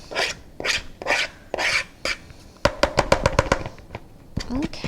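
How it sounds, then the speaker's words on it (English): Homemade dog treat dough scraped to one side of a mixing bowl, heard as a run of close rasping, rubbing strokes followed by a quick burst of sharp taps and knocks; a voice talks intermittently over it. "I'm going to try to scrape everything in the bowl to one side."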